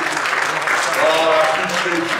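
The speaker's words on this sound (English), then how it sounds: "always give God a hand clap." A church congregation claps their hands together during a worship service, a dense, steady wash of clapping filling the room for a couple of seconds.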